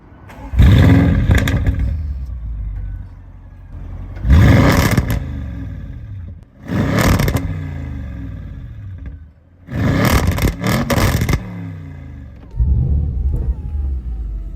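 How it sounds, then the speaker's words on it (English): A 730bhp Audi RS7 V8 with Revo Stage 2 tuning and a Milltek exhaust revs loudly and close in five separate bursts, each rising into a deep roar and falling back to a burbling idle between them. "let's hear this V8 now"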